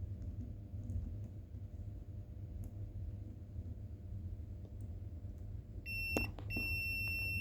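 A relay box's start-of-travel limit switch signals with a few short electronic beeps near the end, over a steady low electrical hum.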